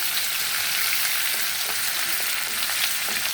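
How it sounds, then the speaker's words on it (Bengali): Onions fry in hot oil until browned, a loud, even, close sizzle like steady rain, with faint crackles scattered throughout and no voices. "তারপর পেঁয়াজ, সব কিছু লাল করে ভেজে নেব।"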